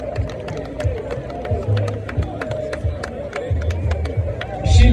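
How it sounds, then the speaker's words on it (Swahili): A crowd applauds the Dar es Salaam boys' football team for third place at the UMISSETA national school games 2025, a dense patter of clapping with murmuring voices and a few cheers in the background. "Makofi kwa Dar es Salaam."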